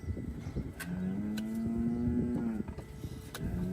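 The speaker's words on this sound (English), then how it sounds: "We can all hear the cow getting impatient in the background." A cow held for hoof trimming lets out a long, loud, drawn-out moo close by, rising and sustained for over a second before fading, with scraping and knocking noises around it.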